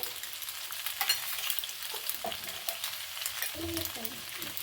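Boiled macaroni is mixed into a stuffing in a pan, a continuous soft sizzle with scattered scrapes and clinks of a spoon stirring close by.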